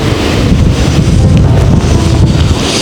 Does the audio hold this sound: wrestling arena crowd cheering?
no